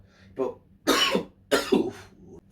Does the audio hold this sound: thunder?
no